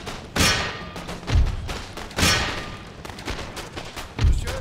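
Crackling volleys of musket fire from skirmishing infantry brigades in Empire: Total War, several distinct bursts spaced about a second apart, each a sharp crack with a rolling thud beneath, amid continuous battlefield din.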